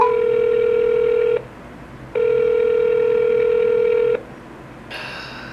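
A telephone line plays a steady two-second tone twice, broken by a short gap, followed by a brief burst of higher electronic tones while a call is placed back.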